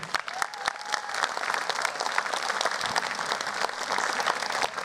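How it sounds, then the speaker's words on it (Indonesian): Lively applause from a stand-up comedy audience for comedian Bakri Adi, crisp claps close by over a dense crowd of clapping, with some murmuring voices. "Boleh tepuk tangan buat Bakri Adi."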